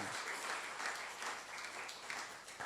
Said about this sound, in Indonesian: Yang percaya berikan tepuk tangan yang meriah buat Tuhan.